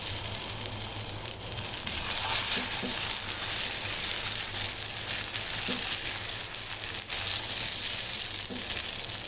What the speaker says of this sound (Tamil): தோசை ஊற்றிடலாம்.